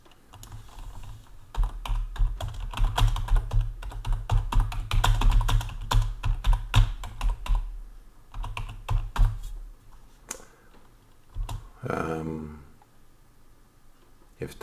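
Computer keyboard typing in rapid bursts of clicks and taps at close range, running for most of the stretch with short pauses and a brief quieter spell near the end, no talking over it.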